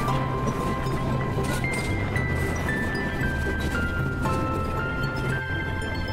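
The Egarosindhur Provati train runs through a railway station on the Dhaka to Kishoreganj line, giving a steady loud rumble of wheels with rhythmic clanks and a long drawn horn-like tone sliding across the passage.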